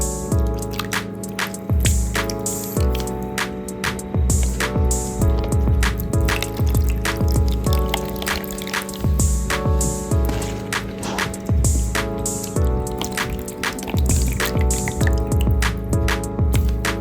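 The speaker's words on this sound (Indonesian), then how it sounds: "boleh kita tuangkan ya teman-teman ke dalam mangkuk yang sudah berisi kerokan timun tadi" Coconut milk poured into a bowl of scraped cucumber for a Banjar-style cucumber dish, a steady close splashing trickle with dripping and liquid squelches throughout, no speech.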